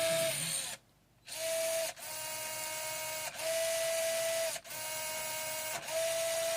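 An FMS FCX18 LC80 RC crawler fitted with Batrazzi tracks drives in bursts, its motor giving a steady close whine that stops briefly between runs, with no talking.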